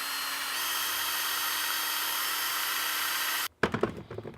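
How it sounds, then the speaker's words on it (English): A high, steady whine of a drill boring into a wine cork runs continuously, then stops abruptly, followed by a few light clicks and taps close by. "grab my drill, and this hole will be a lot smaller"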